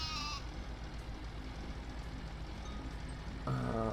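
Sheep in the video game Farming Simulator 17 give two short bleats, one at the start and one at the end, heard over a steady low hum of game ambience.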